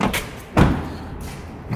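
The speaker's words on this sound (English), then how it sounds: "close the doors there." A car door shuts with a single firm thud during a window-cleaning job, set against steady background noise with a lighter knock just before it.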